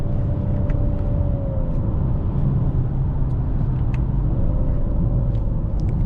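A 2019 Ford Edge ST pushed hard through corners in sport mode, its engine a steady loud rumble under load with rising and falling tonal whine as it holds gears, continuous road noise throughout.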